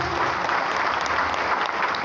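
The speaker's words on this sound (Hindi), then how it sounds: "इन दोनों के लिए जबरदस्त ताली होना चाहिए।" Audience at a community gathering in Latehar breaking into loud, sustained applause, dense clapping from many hands heard close and alone.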